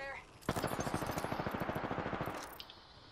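Machine gun fire in the video game Apex Legends, one sustained rapid burst of about twenty evenly spaced shots lasting two seconds, loud and close.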